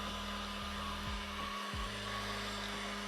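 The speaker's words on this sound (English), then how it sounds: "A little bit of a heat gun action again." A heat gun blows steadily throughout, a continuous broadband whoosh with a low motor hum and a few brief dips in pitch as it is moved over a piece to dry it.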